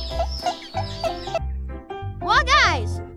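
A pet chicken clucks in short repeated bursts up close, with a voice mixed in and a brighter squawking call near the end.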